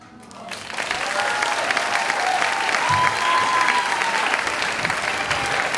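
A live storytelling audience applauds storyteller Tom: clapping swells in after a moment and holds as a steady, fairly close wash, with a whoop or two rising over it.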